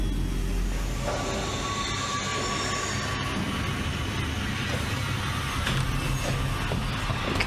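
Tram ride in the video game Alien Isolation: a steady rumbling rail hum with metallic rattles and faint wheel squeals, continuous and close, with no talk over it.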